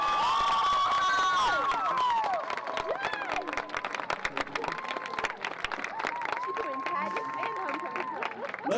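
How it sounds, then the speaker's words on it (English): At a high school football game's homecoming ceremony, a stadium crowd cheers and claps for the newly crowned homecoming queen, with loud whoops and shouts early, then sustained scattered applause and excited voices. "Let's have one more round of applause for our king, queen, court, and all of our homecoming candidates."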